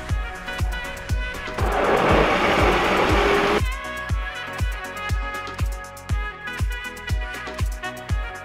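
Akpi, ginger, fresh tomato, onion and dried chili being crushed together, with a steady run of rhythmic thumping pounds broken by a few seconds of loud whirring grind, close up with no talk.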